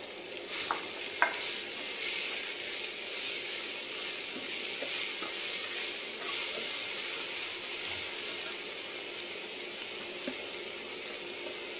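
Eggplant stir-fried in a pan sizzles steadily and crackles, with bright spattering and occasional stirring scrapes, close and continuous, no talking.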